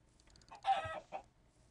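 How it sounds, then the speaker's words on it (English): Chickens in the video game Minecraft give a short burst of soft, close clucking, a few quick calls lasting under two seconds, with no talk over them. "Hey, some chickens."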